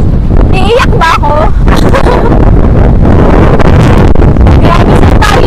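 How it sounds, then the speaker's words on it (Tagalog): Strong wind from Typhoon Uwan batters the microphone in loud, continuous roaring gusts, while someone talks excitedly over the storm. "tingnan nyo sa lakas ng hangin ng bagyo"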